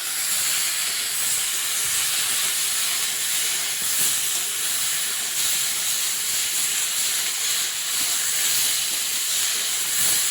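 Ridge gourd fries with salt and turmeric over a medium flame, giving a steady, loud, even sizzle that hisses continuously without pause.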